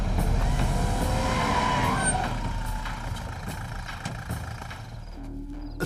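A car swerves and skids through a turn during a chase, a loud, close roar of engine and tyres that holds steady, then eases slightly near the end.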